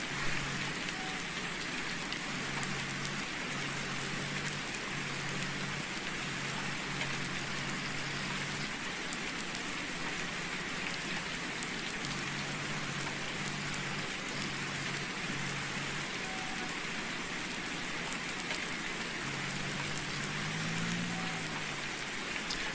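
Rain drums steadily on the roof of a leaky shed in the farming game Farming Simulator 19, a loud, continuous patter lasting throughout, with a low engine-like hum faintly coming and going underneath.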